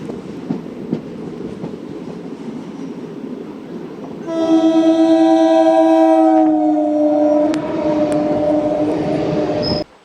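A Kachiguda–Medak passenger train rumbles along the track, then sounds one long, loud, steady horn blast lasting several seconds before it cuts off, with no voices.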